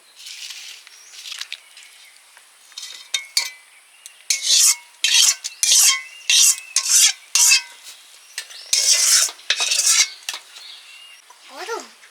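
A metal spoon scrapes fried vegetables from a pan onto a plate in a home kitchen, a run of close, rapid rasping strokes with clinks of cookware, alone without talk.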